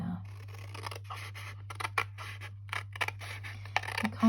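Scissors snipping through folded paper card along a score line while making a desk calendar sticky-note holder, a run of small close crisp cuts and scrapes over a steady low hum.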